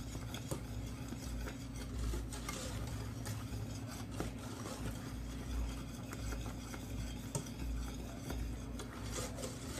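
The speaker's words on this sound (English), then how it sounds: "But you want to stir it constantly because you don't want it to burn." A spoon stirs brickle candy mixture constantly in a pan, making a faint, steady scraping and soft clinking that continues without pause.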